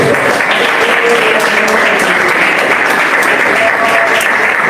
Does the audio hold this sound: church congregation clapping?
yes